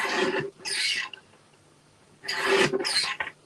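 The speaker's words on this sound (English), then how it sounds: "So I'm just trimming a tiny bit off two sides." Paper being trimmed for a scrapbook page, two short rasping cutting strokes with a pause between, close and fairly quiet with no talking.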